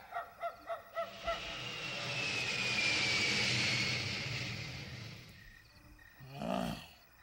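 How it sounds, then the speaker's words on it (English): A jet airplane passes overhead at night, its broad roar swelling and fading with a descending whine, after a few quick dog barks at the start. "That's a night airplane."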